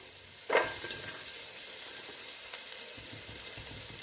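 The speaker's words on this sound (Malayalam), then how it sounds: "അതിലേക്ക് ഓയിൽ ഒഴിച്ച് ചേർത്ത് കൊടുത്തിട്ടുണ്ട്. കുറച്ച് വെളുത്തുള്ളി ഇഞ്ചി ചേർത്ത് കൊടുക്കാം." Garlic and ginger drop into hot oil in a pan and hiss at once with a sharp sizzle. The frying then settles into a quieter steady crackle with a few light stirring clicks, fairly faint and close.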